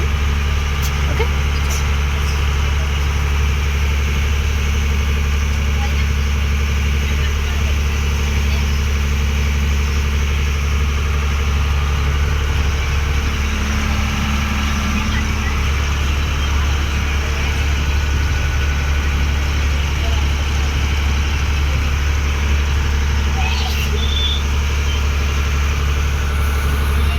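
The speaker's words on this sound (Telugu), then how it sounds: "ఒక బోట్ వస్తుంది చూడండి, ఇక్కడ బోటు ఒకసారి అటు సైడ్ చూడండి." A boat engine runs on the water at Srisailam as the boat approaches, a steady low droning hum that holds unbroken and fairly loud throughout.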